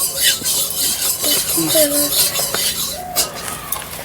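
Oil being stirred in a wok on the stove, with metal spoon scrapes and clinks against the pan, close and moderately loud with some faint background sounds.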